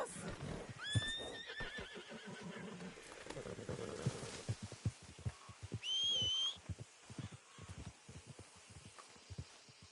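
A horse in a video game gives a couple of sharp, high whinnies over a steady clip-clop of hooves. The sounds are close and clear, with brief whistle-like tones.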